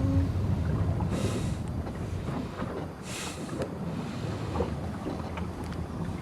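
Steady wind roars across the microphone aboard a sailboat at sea, with rushing water and waves beneath and a couple of stronger gusts, continuous and close with no voices.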